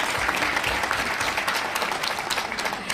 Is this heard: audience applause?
yes